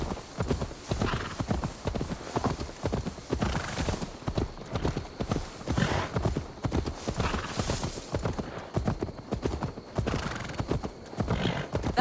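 A horse in the Assassin's Creed Valhalla video game, its hooves clip-clopping in a quick, steady rhythm for the whole stretch, close and fairly loud, with occasional neighs and whinnies mixed in.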